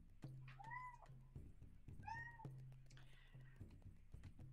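A cat meows twice, clear, rising-falling cries about a second apart, followed by a softer third call, heard close against a low steady background hum.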